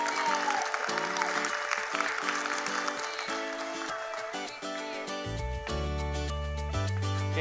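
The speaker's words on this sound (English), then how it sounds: "Applaud." Applause at a party challenge event, a broad bed of clapping mixed with music that keeps going. A bass-heavy musical sting comes in toward the end.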